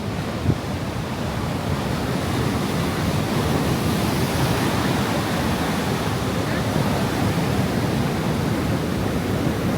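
Strong, continuous ocean surf roars along Kuta Beach in Bali, a dense steady wash of breaking waves with wind, loud and unbroken throughout.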